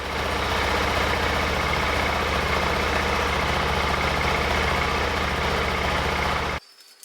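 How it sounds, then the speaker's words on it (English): A motorcycle engine idles with a steady, loud, even rumble after being started with the key, then cuts off abruptly near the end. "we're going to turn the key and we're going to start the vehicle"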